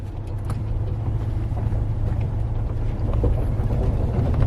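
A car drives along a mountain road, with a loud, close engine and road rumble plus some wind buffeting, steady and rising slightly, with no talk.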